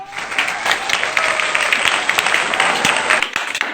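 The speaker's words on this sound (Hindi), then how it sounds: "एक बार अदनान के लिए जोरदार ताली बजाइए" Enthusiastic audience applause for a performer named Adnan, a dense, steady wash of many hands clapping that holds for the whole stretch without a break.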